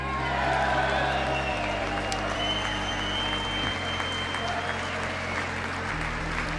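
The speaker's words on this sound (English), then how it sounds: "So this clapping went on for, I bet, 3 minutes." A large audience at a political live event claps steadily and loudly, a dense sustained wash of applause from many hands with a low background rumble.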